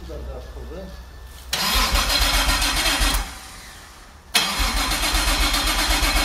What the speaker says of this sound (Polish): trochę zakręcimy silnikiem